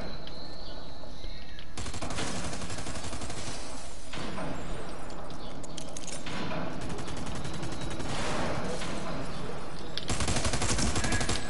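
Sustained gunfire from a PS4 shooter game, a dense rattle of rapid shots running continuously and loudly throughout, with bursts swelling and easing.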